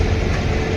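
A passenger train on the Bangalore to Badami route rolls into a station, its steady low rumble and rail noise filling the short moment close by without any voices.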